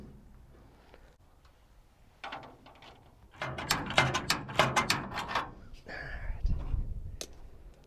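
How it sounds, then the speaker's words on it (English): A ratchet is worked on 3/8 inch acorn nuts holding the bow tie emblem of a 1967-72 Chevy C10, giving close, sharp bursts of rapid clicking with short pauses and some handling clatter between them. "So just grab you a ratchet or an extension"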